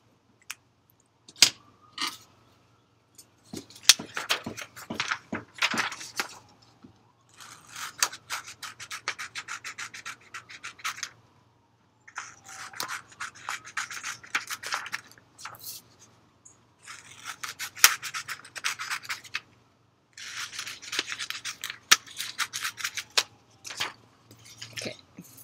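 Scissors cutting out paper craft pieces for a Golden Snitch wing, close and quiet, with bursts of crisp snipping and rustling paper separated by short pauses, no talking.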